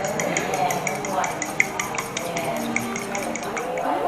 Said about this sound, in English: All right, we're going to mix this up.